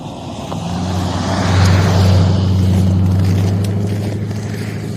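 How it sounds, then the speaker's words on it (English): A truck passes by outdoors with a low engine drone that swells to a peak midway and then slowly fades. "I'm gonna let this truck pass."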